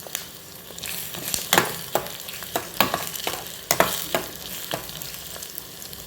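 Onions and chillies are stirred in a frying pan, with repeated scraping strokes of a spoon against the metal over a soft continuous sizzle, close and clear.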